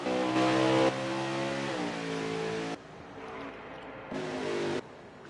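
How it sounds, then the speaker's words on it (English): A racing truck's engine drones and revs on a track, holding a steady tone, dropping in pitch as it shifts, then surging again, heard from a moderate distance. "Truck's coming back on track here."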